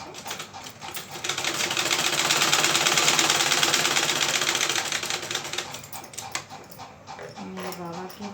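A sewing machine stitches a cloth sheet with a rapid, continuous mechanical clatter that swells and fades over several seconds, heard up close with some faint background noise.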